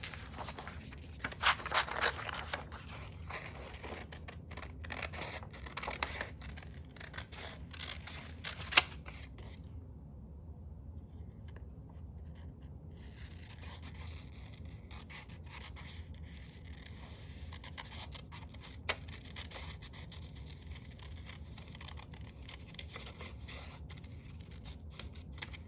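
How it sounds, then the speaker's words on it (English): Scissors snip out paper butterfly wings close up, with quiet intermittent cuts and paper rustling across a soft, steady background. "Well, let's cut out the wings first."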